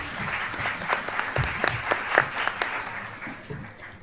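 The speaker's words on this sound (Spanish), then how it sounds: "Un aplauso para ella, por favor." Seminar audience applauds a ministry representative at an early-childhood conference, a warm burst of many hands clapping that swells briefly and then tapers off.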